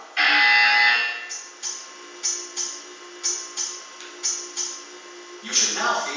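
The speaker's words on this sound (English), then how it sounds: "You will hear a buzzer. When you hear the buzzer, stare at the art." A loud electronic buzzer in the video game Portal 2 blares at first, then short buzzes repeat in an irregular rhythm, ending in another longer buzz.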